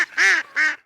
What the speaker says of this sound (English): Compare this hen mallard call